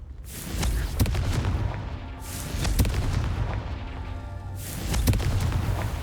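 Booming fire-spell blasts from Hogwarts Legacy, the Confringo curse, land in three heavy explosions about two seconds apart, each with a sharp crack and rumbling tail, alone without talk.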